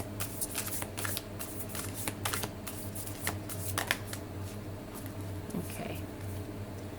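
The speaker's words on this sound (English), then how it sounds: "These cards are so big, sometimes I have a hard time shuffling them." Large Spirit Animal Oracle cards being shuffled by hand, a quiet run of crisp riffling bursts and soft card slaps repeating for several seconds, close up, with faint room noise behind.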